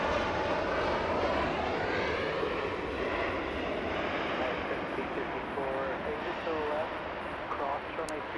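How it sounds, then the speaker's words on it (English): An Aer Lingus airliner landing on the north side at LAX, its engines giving a steady, loud roar with a slowly shifting whine that fills the whole stretch. "Aer Lingus, also the beautiful Irish, landing here in the north"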